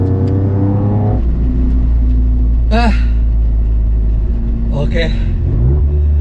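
A Toyota GR Yaris on the Mandalika circuit, its engine droning loud and low from inside the cabin, dropping pitch and then rising again as it accelerates, with a couple of brief spoken words.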